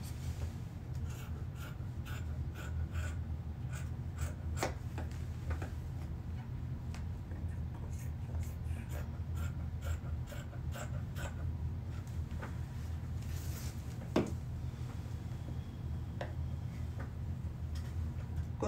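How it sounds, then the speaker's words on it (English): Scissors cut through dress fabric along a pattern, giving soft, irregular snips and rustling close by over a low, steady background hum, with no talking. "So I'm going to cut it out."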